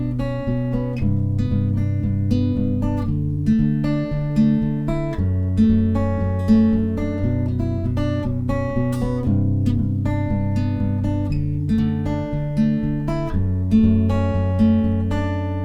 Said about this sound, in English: that finger picking part sounds like this